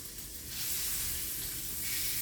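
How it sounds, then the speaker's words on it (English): Meat frying in a pan, turned to cook on all sides, gives a steady, broad sizzling hiss that swells slightly partway through and continues without talk. "I'm just cooking it on all sides."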